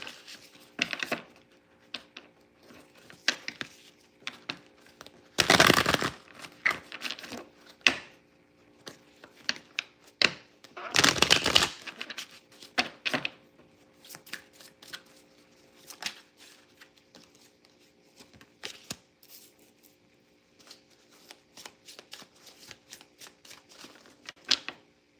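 Inspiration cards are handled and shuffled in a quiet room, with two loud riffling shuffle bursts, one after the other, among softer card slides and taps over a faint steady hum.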